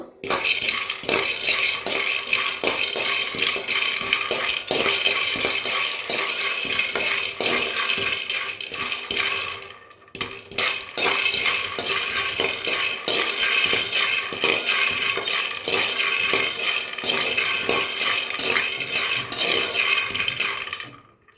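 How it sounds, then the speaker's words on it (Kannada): Peanuts roasting in a pan for tomato coconut chutney, a spoon scraping and stirring continuously with bright metallic clinks and rattling nuts, close and loud, briefly pausing midway before the stirring resumes. "ಮೊದಲಿಗೆ ಒಂದು 2 ಸ್ಪೂನು ಕಡಲೆ ಬೀಜ ಹಾಕಿ ಚೆನ್ನಾಗಿ ಹುರ್ಕೋಬೇಕು."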